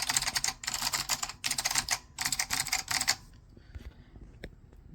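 Fast typing on a Datacomp DFK-191 keyboard with clicky Alps SKCM White switches: four dense bursts of crisp, close key clicks separated by short pauses, then a few scattered quieter taps.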